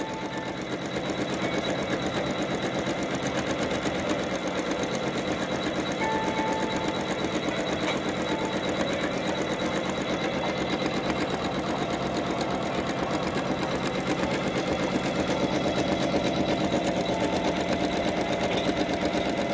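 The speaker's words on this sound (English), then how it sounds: "let me show you real quick a video of mine actually stitching out" An embroidery-capable sewing machine stitching out a collage pillow runs steadily and continuously at close range, its fast, even mechanical chatter holding at a constant loudness throughout with no talk.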